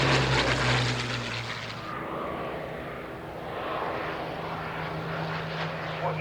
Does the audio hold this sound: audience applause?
no